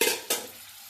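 Soaked tamarind poured into a curry frying in a pan gives a soft sizzle with scraping stirs, two quick bursts that fade into a gentle frying hiss.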